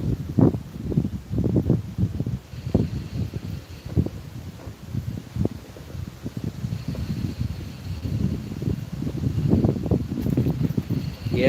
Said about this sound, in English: They're not sustained, but we got wind gusts